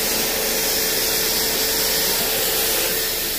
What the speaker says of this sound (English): Pretty good vacuum cleaner. You should be able to hold it a little ways away from it, and it'll suck it up.